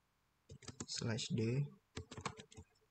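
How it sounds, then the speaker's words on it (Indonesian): Typing a command on a computer keyboard at a Linux terminal: a few quick key clicks heard around and under someone speaking. "Lalu kita ketikkan perintah rm/d"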